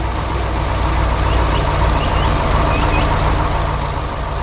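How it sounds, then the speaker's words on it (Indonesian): A red truck in an animated farm scene rolls slowly through a green field, a constant loud engine rumble with a steady low drone and no breaks. "Truk merah berjalan perlahan di tengah ladang hijau."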